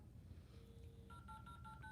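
A phone is dialed, giving a quick run of short electronic keypad beeps in the second half, faint against low background noise.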